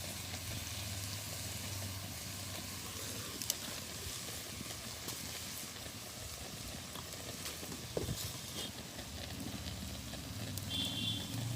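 A fish head frying in a pan in a Bengali village kitchen, steady soft sizzling with a few scattered clinks, fairly faint, no talking.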